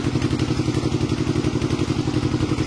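A pressed brick making machine extrudes a clay block with a loud, steady mechanical chugging, a fast even pulse like an idling engine that runs unbroken throughout.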